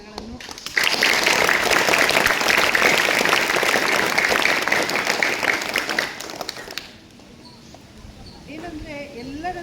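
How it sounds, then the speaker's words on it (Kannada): Schoolchildren at a government school in a village clap loudly and steadily for several seconds, then the applause stops abruptly and a voice begins speaking. "ಇವ್ರಿಗೆ ನಿಮ್ಮೆಲ್ಲರ ಪರವಾಗಿ ಜೋರಾದ ಚಪ್ಪಾಳೆ ಮೂಲಕ ಅವ್ರಿಗೆ"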